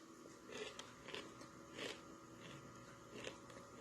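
Several crisp, crunchy bites and chewing sounds of homemade low-sugar granola, close to the ear, coming in irregular bursts over a quiet background.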